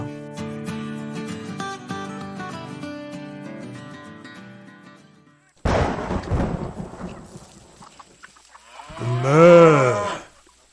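A cow gives one long, drawn-out moo on a farm near the end, after gentle music and a sudden rumble of thunder.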